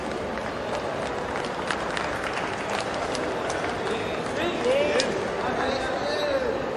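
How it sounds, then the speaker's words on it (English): Audience applause at a book launch, a dense steady wash of many hands clapping throughout, with a voice briefly audible above the crowd near the end. "Let's give them all an encouraging round of applause."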